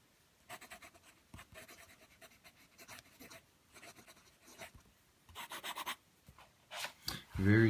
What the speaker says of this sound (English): Quick writing sample.